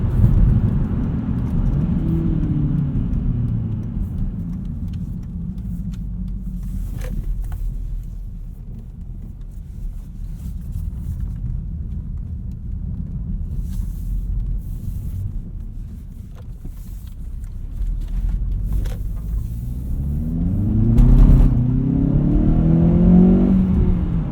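A 2016 Hyundai Veloster Rally Edition with a six-speed manual accelerates on snow, its engine revving up, easing off through a quieter stretch, then climbing again close by with wind buffeting, alone without talk.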